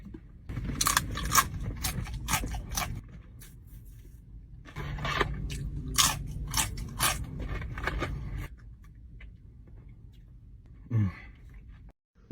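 Crunchy spicy food, served with hot sauce, is bitten and chewed close up in two long runs of sharp crackling crunches with a brief pause between, ending with a faint lone sound.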